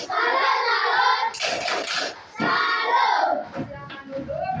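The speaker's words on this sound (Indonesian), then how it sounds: "Tepuk salut dulu untuk kita semua" Classroom of primary-school children in grade 4 doing the "tepuk salut" clapping chant, loud chanting voices with bursts of clapping close by, rising and falling over a few seconds.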